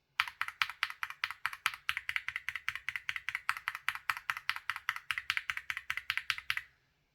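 Gateron G Pro 3.0 yellow keyboard switches are typed in a quick, even run of crisp clacking keystrokes, several per second, fairly quiet and alone before stopping.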